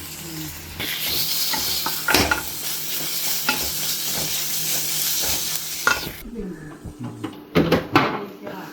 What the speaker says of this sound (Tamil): நல்லா வதங்கிட்டு இதில் பெஞ்சு பூண்டு பேஸ்ட் போட்டுவோம்